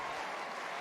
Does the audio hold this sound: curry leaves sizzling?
no